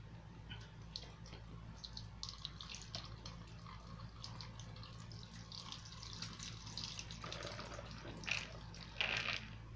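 Water drains from sprouting mung beans: a faint, steady trickle and splash over a low background hum, with a few brighter drips and splashes near the end and no talking.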